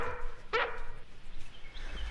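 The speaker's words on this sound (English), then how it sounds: "we've got a tape of Lassie barking" A single short bark from a cartoon dog, the collie Lassie, in a 1973 animated series, heard once at moderate distance over a low background, with no speech.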